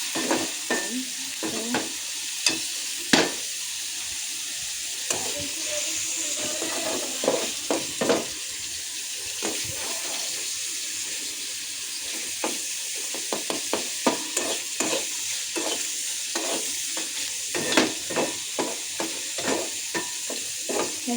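Mushrooms and chopped onions fry in a pan with a steady sizzle, broken by frequent scraping clicks of a spoon being stirred against the pan throughout, without any talking.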